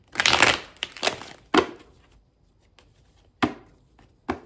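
Hand shuffling of a tarot deck: an opening flurry of papery riffles followed by several isolated sharp card taps spaced apart, close up.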